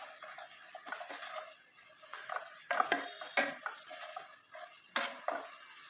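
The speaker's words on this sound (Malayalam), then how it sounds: "നമുക്ക് ഇതിനകത്തേക്ക് ഇഞ്ചി ഇട്ട് കൊടുക്കാം, വെളുത്തുള്ളി ഇട്ട് കൊടുക്കാം, പച്ചമുളക് ഇട്ട് കൊടുക്കാം, പിന്നെ കറിവേപ്പില ഇട്ട് കൊടുത്തിട്ട് ഇളക്കി കൊടുക്കാം" Ginger, garlic, green chili and curry leaves stirred in an oiled pan for a Kerala prawn roast: repeated scraping and clinking strokes in an uneven rhythm over a soft, low sizzle, close by.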